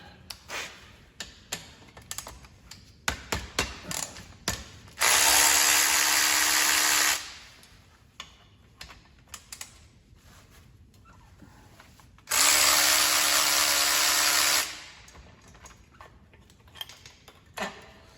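Power tool with a 3/8 Allen head spins out brake caliper slide pins on a Camaro/Firebird rear brake in two loud bursts of about two seconds each, separated by clinks and rattles of handled parts.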